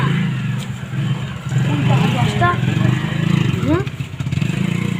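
A motorcycle engine revs up and holds a steady, loud drone with rising whines, close by, with people talking over it.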